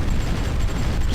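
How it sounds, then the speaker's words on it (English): Massive explosions in the strategy game Supreme Ruler Ultimate, heard as a loud, continuous rumbling blast with a sharp crack at the very end. "Oh, and there's massive explosions."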